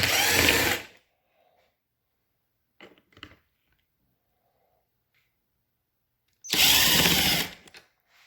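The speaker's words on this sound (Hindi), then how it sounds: "ये मेरे पास गन है तो मैं इसको निकालता हूँ यहाँ से।" Two loud bursts of a power tool gun, nearly a second each, removing bolts from a Toyota power seat, with faint clicks and handling noises between them.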